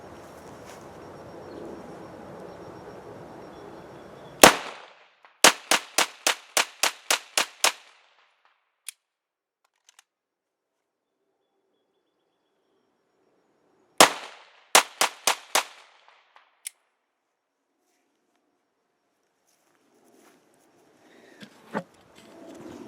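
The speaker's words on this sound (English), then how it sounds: "We're going to do some rapid fire shots now." Two bursts of rapid 9mm pistol shots with Winchester 115 grain FMJ ammunition ring out at an outdoor range, each a string of sharp, loud cracks, with a couple of isolated shots and quiet stretches between.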